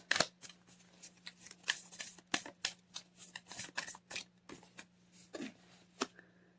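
Oracle cards being shuffled up close, with a quick irregular series of soft riffling and flicking bursts over a faint steady hum, and no talking.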